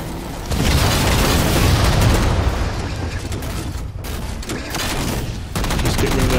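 Rocket fire and explosions fill a Halo 4 Heavies match on the Ragnarok map, a dense, loud barrage of booms and gunfire that continues without pause and swells in waves.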